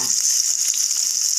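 Sardines fry in a pan with a loud, continuous close-up sizzle and crackle that fills the whole moment.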